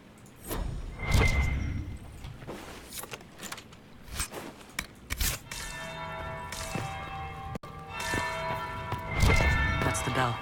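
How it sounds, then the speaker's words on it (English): A bell rings in the video game Dragon Age: Inquisition, its resonant tolls sounding twice amid clinks and footsteps and ringing out with a long sustained hum. "That's the bell."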